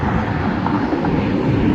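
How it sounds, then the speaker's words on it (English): A jet from a nearby naval air station near Key West roars overhead as a steady, loud, broadband rumble that fills the whole stretch outdoors, with no speech over it. "You can probably hear the jet in the background."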